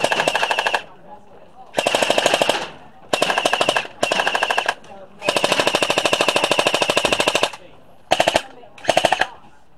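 Gellyball gel blaster guns fire in a netted play area, rattling out rapid automatic bursts of varying length separated by short silences, loud and close.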